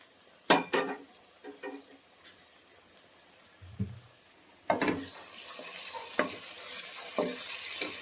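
Tempering spices for dal fry in a hot pan with a rising sizzle, broken by the sharp clatter of a spoon scraping and stirring the metal.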